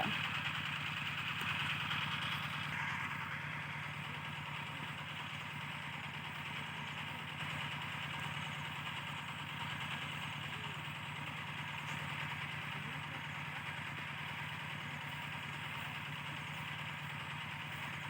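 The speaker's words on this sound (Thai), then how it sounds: "นู่นน้องจะขี่มอไซค์กลับบ้านแล้ว" A motorcycle engine idling steadily for a long stretch, a constant mid-pitched rumble and hum with no change in revs and no talking.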